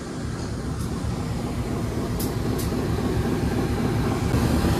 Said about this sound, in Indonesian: ini kita bertemu dengan kereta api Gajah Wong sepertinya teman-teman